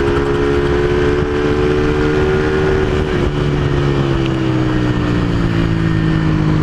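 A small engine idles steadily and evenly after a carburetor repair, its loud, close drone holding a constant tone that drifts slightly lower partway through, with no talking.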